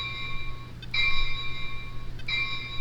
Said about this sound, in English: If we go ahead and turn the volume down, we'll hear a bell.